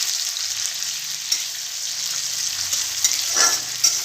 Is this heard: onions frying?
yes